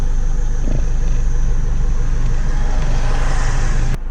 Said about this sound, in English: the traffic up here, bottlenecks, and it starts to get pretty busy now